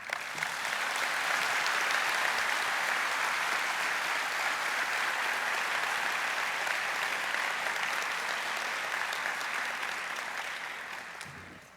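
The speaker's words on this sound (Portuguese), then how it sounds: "para quem eu peço um aplauso agora sim." Steady, sustained audience applause at a Spiritist literature talk, dense and even for about twelve seconds before tapering off at the end, with no voices over it.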